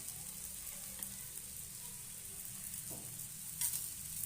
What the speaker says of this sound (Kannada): ಸ್ವಲ್ಪ ಮೇಲೆ ಕೆಳಗೆ ಎಲ್ಲ ಬೇಯಿಸ್ಕೊಂಡ್ರೆ ಈರುಳ್ಳಿ ಎಲ್ಲ ಚೆನ್ನಾಗಿ ಬೇಯ್ಕೊಳುತ್ತೆ